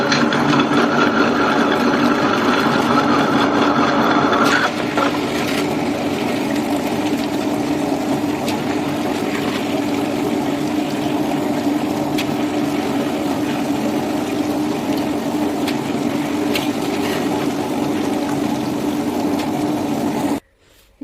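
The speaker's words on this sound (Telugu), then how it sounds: "ఇప్పుడు గ్రైండర్ ఆన్ చేయాలి." A wet grinder runs steadily with water and rice and urad dal batter, a continuous motor hum and churning that stays level and close for about twenty seconds. It is louder at first and cuts off abruptly at the end.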